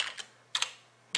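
Keys clack on a computer keyboard in a few sparse, crisp taps close by, with quiet gaps between them.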